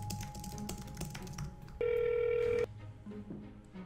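A phone rings once in a steady electronic tone, loud and close, after a stretch of background clatter and faint room noise, then the clatter returns.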